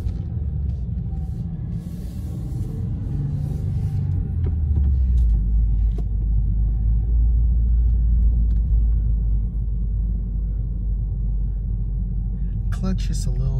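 A 2021 Subaru WRX base rolls slowly around the block in second gear, its steady low engine and road rumble swelling and holding loud and close, with talk over it.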